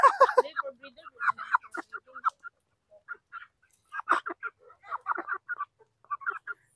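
Basilan native chickens cluck nearby in uneven bursts of short calls, busier at the start and again in the second half, with brief quiet gaps between.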